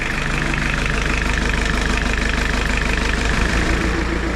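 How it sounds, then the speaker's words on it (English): A Suzuki Samurai with a diesel engine idles steadily close by, a low rumbling chug with an even, rapid knocking pulse throughout, alone and without speech. "It's been idling for a few minutes and no leaks"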